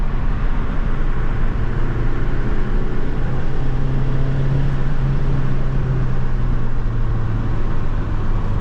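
Steady engine drone of a 1989 Ford Probe Turbo GT during a heel-toe downshift, loud and continuous for the whole stretch, with a low tone rising slightly partway through and no talk.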